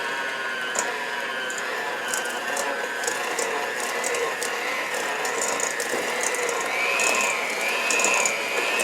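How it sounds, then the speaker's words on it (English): A hand mixer whirring steadily as it creams a cup of butter with two cups of sugar in a bowl, a continuous motor hum with rattling, clicking beaters and slight pitch shifts as it works. "In this bowl, I have a cup of butter and 2 cups of sugar, okay? And I'll use my hand mixer."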